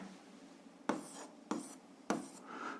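A pen writes out an algebra solution on paper, three quick, separate scratchy strokes over a quiet room hush, close and fairly soft, with no voices.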